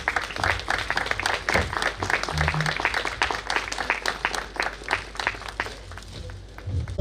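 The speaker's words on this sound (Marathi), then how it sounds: "जोरदार टाळ्या वाजवा" Guests at a family wedding felicitation clap in sustained, dense applause, steady and close for the whole stretch with no talk.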